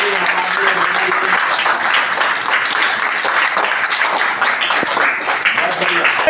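A room of children claps loudly at a government higher secondary school event, giving continuous, close, energetic applause with some voices mixed in.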